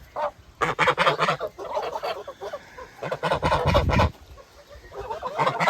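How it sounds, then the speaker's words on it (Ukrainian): Several Kholmogory farmyard geese, including a gander, honk loudly and close by in repeated, overlapping bursts with short pauses between them. "Ось гуска. Ось ще одна гуска. І ось гусак."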